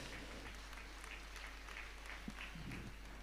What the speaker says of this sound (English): With a round of applause,